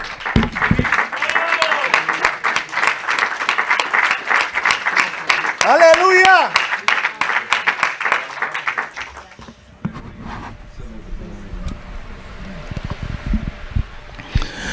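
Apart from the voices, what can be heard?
church congregation applause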